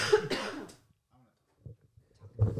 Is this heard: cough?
yes